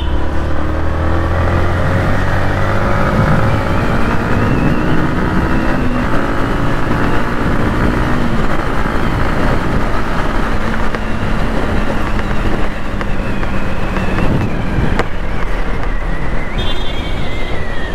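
A 2022 Yamaha MT-15 V2 motorcycle being ridden, its engine droning and revving steadily under heavy wind rush, loud and close throughout.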